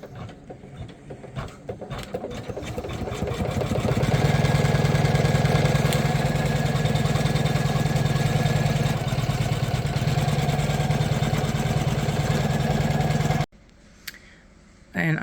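An embroidery machine stitching wallet tabs runs close by in a steady rapid mechanical chatter that builds to a constant whir, then stops abruptly near the end.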